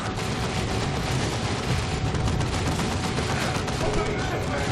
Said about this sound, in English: So those plasma shots and bolter shots going in.